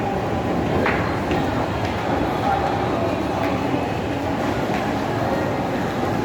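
An MRT train running at Farmers Plaza station gives a steady rumbling roll with faint rail clatter and occasional brief squeaks, continuous and fairly loud, with people's voices mixed in.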